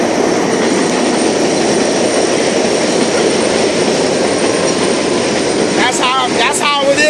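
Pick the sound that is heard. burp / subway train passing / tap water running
subway train passing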